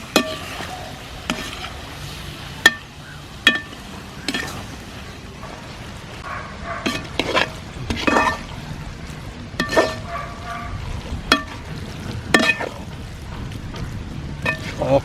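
Masala of fried bread, fresh coriander and mint being stirred in a pan for a vegetable biryani, with repeated sharp scrapes and taps of the spoon over a low, steady sizzle.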